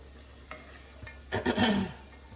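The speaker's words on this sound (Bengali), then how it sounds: "পাকোড়াগুলো যখন গোল্ডেন ব্রাউন হয়ে যাব তখন উঠে ফেলবেন" Pakoras frying in hot oil, a faint crackle at first, then a louder burst of sizzling and stirring near the end of the short stretch, with no voices.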